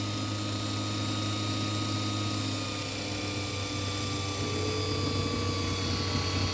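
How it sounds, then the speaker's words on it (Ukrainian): Electric motors in a homemade generator system spin up as an incandescent bulb is added as load, giving a continuous loud hum with steady tonal whine and faint rising pitch, no talking. "Двигуни починають набирати оберти,"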